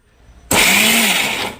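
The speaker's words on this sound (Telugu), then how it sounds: "కోసుకున్న టమోటాలు ఉల్లిపాయలు అన్నీ కూడా మిక్సీ జార్లో వేసుకొని" A mixie jar loaded with chopped tomatoes and onions spins up abruptly for a short, loud burst of motor whine, grinding for about a second before tailing off.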